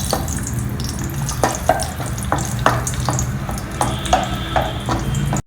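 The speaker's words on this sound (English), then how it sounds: "Now we will add some cashew nuts. Fry the cashews." Cashew nuts and raisins frying in hot ghee in a pan, a steady soft sizzle with scattered small pops and occasional stirring clinks, close and continuous without voices.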